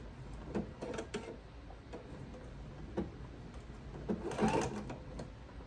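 A sewing machine stitches a quarter-inch seam around a fabric oven mitt, running with a steady close mechanical hum and fine ticking, with a louder chattering burst near the end.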